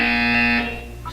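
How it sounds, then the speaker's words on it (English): Buzzer in the video game Portal 2, a loud, sustained electronic drone that holds steady and then fades away, with a short higher tone blipping at the end. "You will hear a buzzer."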